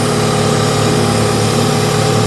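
A BMW 220i M Sport engine runs with a snapped intake pipe detached from the throttle body, producing a loud, steady, throaty roar close by, with no talk.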